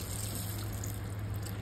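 Water poured into a pot of soaked chickpeas, a continuous trickling and splashing stream at steady level over a low background hum, with no talk.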